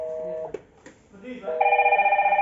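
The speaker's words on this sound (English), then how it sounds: "You're calling 17, it's ringing." A DS-KIS602 intercom door station with keypad and card reader modules calls a room. A brief soft click is followed by a bright, repeating electronic ringing tone that starts near the end.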